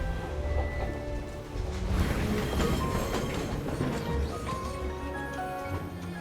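Train ride in the video game Syberia: The World Before, a steady rumbling roll with faint rhythmic clatter and a low hum running continuously throughout, no voices.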